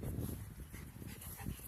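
Two dogs run up close, panting quickly and rhythmically with a few soft whimpers, breathy and fairly quiet throughout.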